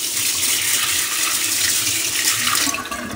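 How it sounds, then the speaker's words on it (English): Filtered water runs from a tap into a kitchen sink as sprouts are rinsed, a steady close gushing splash that tapers slightly at the end. "The idea here is to give this a rinse with filtered water. So I'll put that in the sink."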